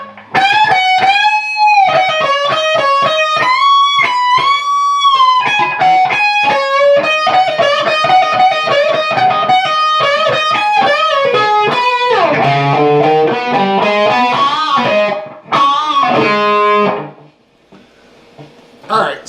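An electric guitar plays a solo, fast, loud, distorted lead lines with bends and sustained notes, ending in a brief fade.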